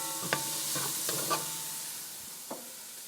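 Chopped onions hitting a hot pan for seafood rice, a soft continuous sizzle with a few scraping stirs of a utensil, close and fairly quiet.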